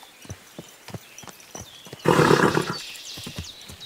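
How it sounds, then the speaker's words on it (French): A horse in the medieval video game Kingdom Come: Deliverance II whinnies loudly over a steady clip-clop of hooves on the ground, close and clear. "Tout doux, bon cheval."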